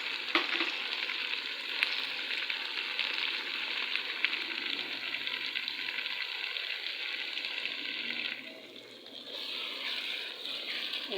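Ginger garlic paste fries in a pan with a steady, fairly soft sizzle and occasional stirring, then dips and drops off briefly near the end.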